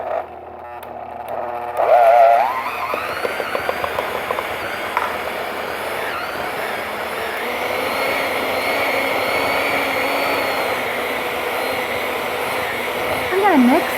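Stand or hand mixer whirring steadily as peanut butter buttercream is beaten with low carb erythritol-stevia powdered sugar, a continuous mid-loud motor drone with some clinks and a brief vocal sound near the end.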